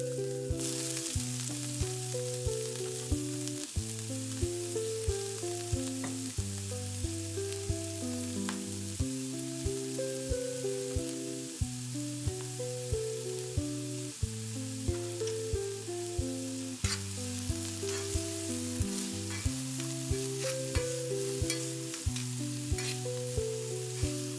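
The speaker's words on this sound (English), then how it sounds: "Onion, pepper, and garlic go in first. Soften them down and build that base flavour before the meat hits the pan." Onion, pepper and garlic sizzle and crackle steadily in a hot pan, a soft hiss with small pops running throughout beneath melodic background music.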